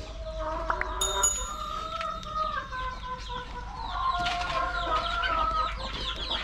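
Hens cluck and chicks peep nearby, several birds calling softly over one another in a steady, busy stream.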